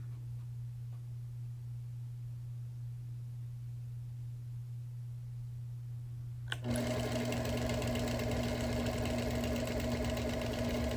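A sewing machine outline-quilting a wool quilt starts up after a quiet hum, then runs fast and steady with a loud, even mechanical whir to the end.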